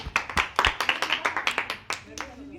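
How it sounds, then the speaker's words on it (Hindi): A small group of people claps in a quick, uneven burst of about fifteen close, sharp claps that trail off near the end, with voices in the room. "एक बार तालियां बजा लो खुद के लिए।"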